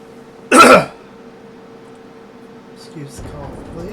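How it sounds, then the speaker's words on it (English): A single short, loud cough bursts out near the microphone, followed by a quiet hum of room noise and a faint throat sound later on. "excuse the cough, please."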